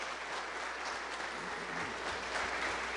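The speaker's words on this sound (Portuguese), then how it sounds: "dê uma forte salva de palmas para o Senhor Jesus" Church congregation at a Sunday service applauding loudly and steadily, a dense wash of clapping hands filling the room without pause.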